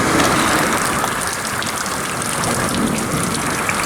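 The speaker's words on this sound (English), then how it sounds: "It is raining." Steady, heavy rain pours continuously, a dense hiss of water falling close by with no pauses.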